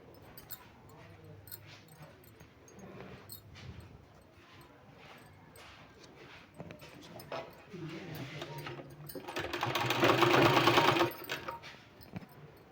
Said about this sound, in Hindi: इसको इस तरह से रख के दोस्तों हमको दोनों साइड सिलाई लगा लेना है